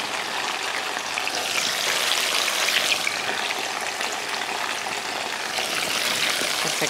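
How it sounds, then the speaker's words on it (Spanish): Steady, close sizzling and crackling of potatoes frying in hot oil, a dense continuous hiss with tiny pops throughout. "Pues que se vayan friendo las patatitas también."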